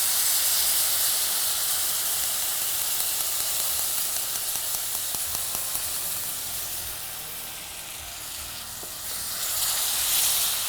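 Strained tamarind water hits a hot pan and sizzles with a loud, steady hiss of frying and steam that fades a little, then swells again.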